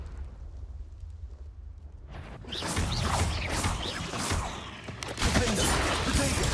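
Crackling fiery blasts from the Confringo spell erupt in a Hogwarts Legacy battle, starting suddenly after a quiet moment and continuing as dense, noisy bursts with rumbling impacts.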